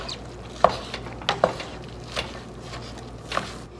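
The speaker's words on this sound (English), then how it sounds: "Just mix the onions." A spoon stirs onions in a pan as a lasagna is being prepared. A few light scraping clinks stand out over a soft, faint background hiss, and nobody speaks.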